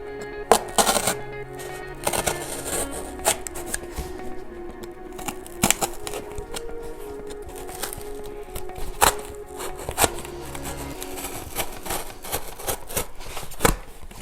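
Scissors or a blade work through the side of a cardboard box in a steady series of close, crunchy cuts and snips with irregular clicks and taps, no talking over it.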